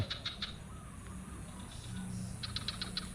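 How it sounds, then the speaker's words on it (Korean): Faint frog calls in the distance in Ubud, Bali: short bursts of rapid, high clicking croaks, a few at a time, repeating over a quiet background hum. "개구리 소리가 들리는데"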